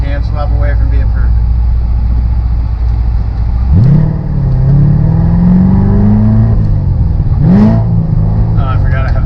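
A C7 Corvette Stingray V8 fitted with a cam swap and long tube headers idles with a loud, lumpy rumble, then revs up twice in quick blips before settling back to idle.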